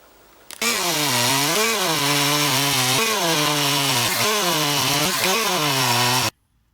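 A Stihl MS200 chainsaw runs loud and steady, its engine pitch dipping and rising repeatedly as it bites through birch wood, then cuts off abruptly.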